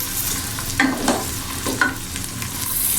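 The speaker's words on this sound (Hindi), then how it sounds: "ये 3 प्याज जो से मैंने ऐसे कट किए थे, ये अब मैं देगची के अंदर शामिल कर दूंगा" Three cut onions frying in oil inside a degchi cooking pot for chicken kofta, a loud continuous sizzle with a few stirring clatters, no speech.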